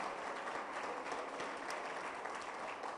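A church congregation applauding, a dense, steady patter of clapping that stays even and moderately distant throughout.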